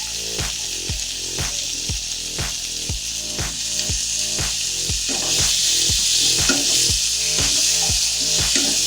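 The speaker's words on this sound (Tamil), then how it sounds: "2 தக்காளி கட் பண்ணி அதை போட்டுக்கலாம்." Onions and tomatoes sautéing in a pan for chicken gravy, a steady hiss of frying under a regular series of spoon knocks and stirring strokes against the pan, close and continuous.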